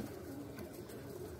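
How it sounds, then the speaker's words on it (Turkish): Pigeons cooing close by, soft low repeated coos in a quiet outdoor setting, brief and unaccompanied by talk. "Bravo kuşlar."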